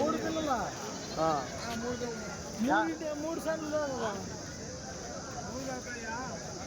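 Goats bleating repeatedly at Kadiri's Bakrid livestock market, several loud near calls rising and falling among a busy crowd, with people talking throughout.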